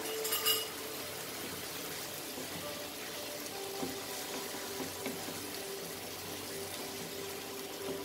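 Water poured into a pan of chicken cooking with dill leaves in a curry, giving a steady low sizzle and bubbling that holds evenly throughout, with a brief splash near the start.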